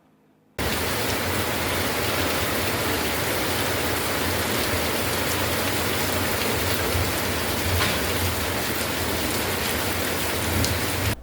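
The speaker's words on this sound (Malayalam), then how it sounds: "കൊല്ലം ജില്ലയുടെ വിവിധ പ്രദേശങ്ങളിൽ മഴ പെയ്തു" Steady heavy rain pours across Kollam district, a dense, even hiss of drops on surfaces that starts abruptly and holds loud and unbroken throughout, with no voices.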